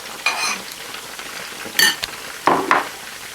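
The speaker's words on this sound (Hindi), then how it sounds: "जब तक हमारा चिकन फ्राई हो रहा है" Chicken for Chicken 65 fries in oil with a soft, continuous sizzle, punctuated by a few loud bursts of spattering and spatula stirring close by.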